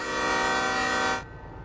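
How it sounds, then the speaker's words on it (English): Locomotive horn in the Derail Valley train simulator game, one loud sustained tonal blast with rich harmonics that cuts off abruptly after about a second, leaving a low engine rumble, with no talk. "Loud train noises."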